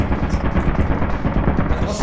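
An automatic turret in the video game Lethal Company firing a loud continuous burst of rapid gunfire, dense and sustained throughout, with players talking over it.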